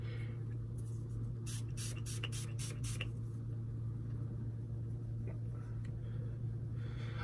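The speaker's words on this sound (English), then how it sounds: "Let me just spray this down right here." A spray bottle mists a makeup brush in a few quick pump bursts near the start, each a short airy spritz, close over a steady background hum.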